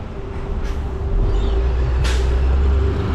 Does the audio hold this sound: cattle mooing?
no